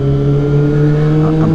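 Sport motorcycle engine, a Yamaha R6 or Kawasaki ZX-10R, holding a steady moderate rev in city riding, a loud continuous tonal drone with a slight rise near the end.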